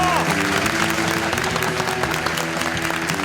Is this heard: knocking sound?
no